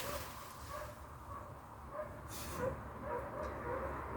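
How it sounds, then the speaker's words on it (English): Faint dog barking in the distance, a few muffled yips over a low background rumble at a lakeside carp-fishing camp. "Somebody else's dog's kicking off now."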